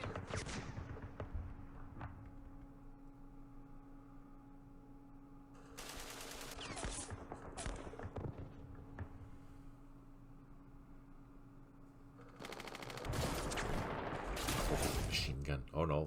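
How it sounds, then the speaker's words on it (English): Light machine gun fire striking the back of a tank in the Campaign Series Middle East game, during the Battle of Jerusalem: bursts of noisy rattling fire come and go over a low steady hum, with a voice talking over parts. "that's probably just the light machine gun of that platoon that's hitting the back of our tank"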